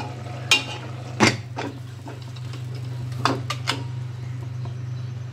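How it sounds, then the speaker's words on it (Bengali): Chicken curry with desi hen is stirred in a pan with a utensil, sharp metallic scrapes and knocks at irregular intervals over a low steady hum and faint sizzle, close by. "দেখেন একটু কষিয়ে নিচ্ছি।"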